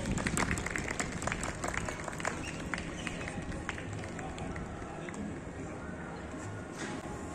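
Fast, uneven clapping from an audience at a spring cultural ceremony in a park, brisk at first and then settling into a steady patter mixed with crowd murmur and some voices.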